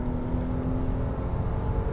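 The naturally aspirated engine of a Lexus RX 350 pulls at high revs, heard from inside as a steady, dense drone with a whirring tone and no break across the two seconds.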